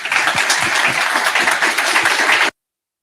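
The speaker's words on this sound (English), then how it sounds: "let's give a round of applause to Łukasz Kosman" Tech conference audience at a Flutter summit bursts into steady, dense applause, loud and close, sustaining evenly for about two and a half seconds before cutting off abruptly.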